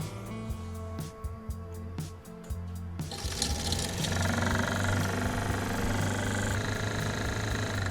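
A seized radiator fan on an Acura NSX is freed and run, first ticking in irregular clicks, then spinning up into a steady, loud whirring rattle with a low hum that carries to the end.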